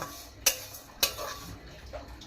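Dry moong dal being stirred in a wok, with a couple of sharp scraping clicks of the spatula against the metal and a soft rustle of lentils between them.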